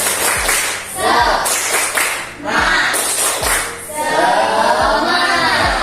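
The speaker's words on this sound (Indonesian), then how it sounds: "Oke, satu lagi. Tepuk semangat." A group does the rhythmic "tepuk semangat" clap chant indoors, with sharp patterned hand claps in regular bursts alongside loud chanted voices, close by.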